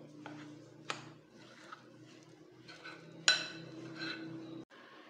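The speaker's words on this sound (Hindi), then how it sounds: "अब अच्छे तरीके से पहले हम इस तरह से चम्मच से मिक्स कर लेंगे।" Spoon mixing flour in a bowl, faint scraping and stirring with a few sharp clinks of metal against the bowl, quiet and close.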